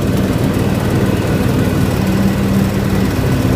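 A John Deere X724 four-wheel-steer riding lawn mower blowing cut grass into a windrow: steady, loud, close engine drone with a constant whirring blade and discharge roar, no talking.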